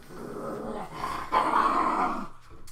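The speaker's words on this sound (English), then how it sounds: "my dog's barking" A pet dog barks and growls in a home, several close, rough bursts that swell and fade over a few seconds, heard alone without talk.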